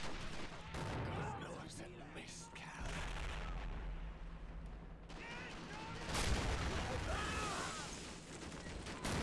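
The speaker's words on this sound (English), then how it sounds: "Still taking fire here, it's crazy." Dense WWII gunfire in the RobZ Realism Mod on a beach assault, with continuous rifle and machine-gun bursts and distant booms blending into a roaring battle din.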